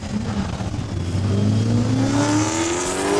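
Supercharged drag racing car accelerating down the strip at Saskatchewan International Raceway, a loud sustained engine roar rising steadily in pitch with no talk over it.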